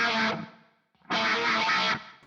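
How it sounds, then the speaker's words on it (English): Two loud bursts of electric guitar, heavy with distortion, fuzz and pitch-shifting effects, are split by a short near-silent gap. Each is a thick, buzzing, sustained chord, with no talking. "I've got an extra guitar track here where I've used more distortion, some fuzz, and some pitched effects"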